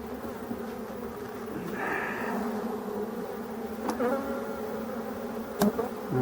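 A drone-laying honeybee hive, where worker bees lay eggs, gives off a continuous close buzzing hum with a few louder wingbeat passes drifting in and out.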